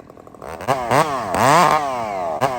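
A chainsaw kicks back while revving in sharp rising bursts, the engine whining up and dropping back several times, loud and close with no talking.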